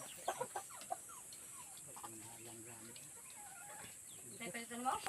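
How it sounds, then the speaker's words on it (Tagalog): Chickens on a rural Filipino farm cluck in short, scattered bursts, with a couple of sharper calls near the start and a busier cluster near the end. A low droning sound runs through the middle, and the birds sound moderately close. "ito yung binigay ko kay Samuel na manok"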